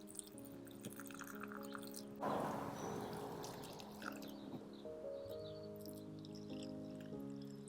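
Water pours and trickles steadily onto seedlings in raised beds on a patio, a soft continuous splashing with a louder gush partway through over a faint background hum.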